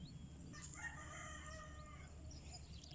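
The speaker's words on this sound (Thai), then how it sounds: "เสียงไก่ขันอยู่นะคะ" A rooster crows once from some distance near a water spinach field by a house in the rainy season, a long rising-and-falling call over a low steady background hum.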